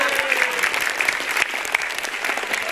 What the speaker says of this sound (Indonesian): Tepuk tangan untuk Metro TV.